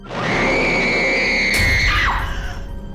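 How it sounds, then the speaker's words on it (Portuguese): A loud, sustained high-pitched scream that holds steady, then breaks and drops off, followed by a rumbling noise. "Em seguida, ouviu um grito."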